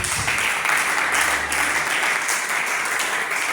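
Church congregation applauding the Lord, a dense, steady wash of clapping that fills the space and carries on without a break from start to finish.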